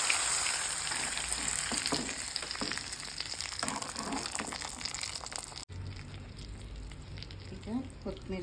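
Curry leaves and chillies sizzle loudly in a hot tempering for bisibele bath, a dense crackling fry with light stirring, then a quieter bubbling after a sudden drop.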